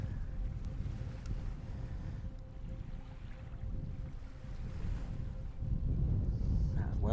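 Gusty wind rumbles continuously against the microphone on the Lytham shore, swelling louder toward the end, with faint indistinct voices beneath.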